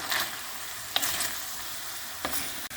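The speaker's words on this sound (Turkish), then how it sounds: "Soğan eriyene kadar karıştırıyorum." Chopped onions with a spoonful of salt sizzle steadily in a frying pan, a continuous hiss broken by a few soft scrapes as they are stirred, fairly faint and close, with no voices.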